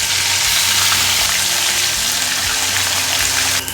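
Shol fish frying in oil in a kadai make a loud, continuous sizzling hiss that holds steady and then drops off abruptly at the end. No one speaks.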